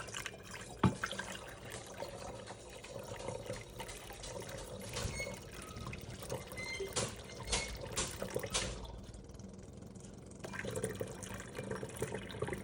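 Homemade hummingbird food poured through a funnel into a feeder set in a kitchen sink, heard as a soft, steady trickle of liquid running for several seconds up close with no talk.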